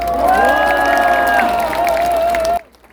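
A crowd at a presidential campaign rally for candidate Kim Moon-soo near K-55 in Pyeongtaek cheers loudly with sustained, tonal shouting, then cuts off abruptly near the end.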